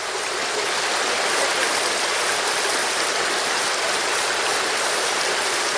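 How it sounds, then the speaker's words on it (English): A small stream in waterfall country rushes steadily, a dense continuous wash of flowing water close by with no voices. "now we plan to cross this little stream"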